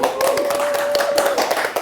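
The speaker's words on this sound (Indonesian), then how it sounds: "Kok nggak ada tepuk tangannya buat Dok Nut ya?" A studio audience at an Indonesian veterinary talk show gives a brief burst of scattered hand claps, with a steady tone running underneath.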